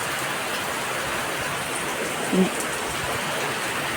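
Heavy rain pouring steadily in a dense, continuous hiss, loud and close, with a brief soft knock partway through.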